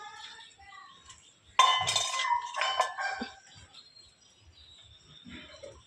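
Metal pot clinks and clatters as milk is set on the stove to boil, heard as a few bright clanks close by in a quiet room.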